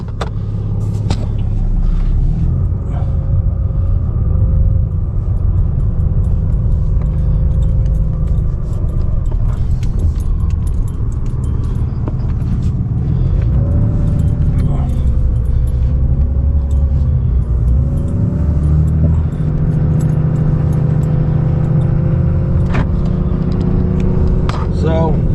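2019 RAM 3500 with a high-output Cummins diesel and Aisin transmission, its low engine rumble droning steadily from inside the cab as it drives, with a person talking over it.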